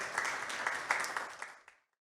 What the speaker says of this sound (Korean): 수상하신 모든 분께 다시 한번 축하의 박수 부탁드립니다.